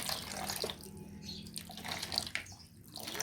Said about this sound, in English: So we shall pour the water out from the fish